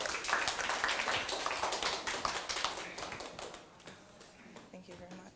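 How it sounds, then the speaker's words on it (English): Audience applause at a blockchain tech demo night in Seoul as a speaker is welcomed to the stage, a steady wash of clapping that fades toward the end. "So please give a round of applause to her."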